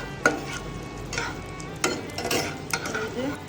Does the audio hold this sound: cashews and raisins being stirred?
yes